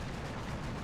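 105 mm artillery fires in the WWII strategy game Combat Mission: Final Blitzkrieg, a heavy, sustained rumbling boom with dense low-end energy that fills the whole short moment without a break.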